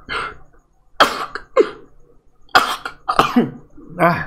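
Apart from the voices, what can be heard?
character coughing or sneezing in video game Oxygen Not Included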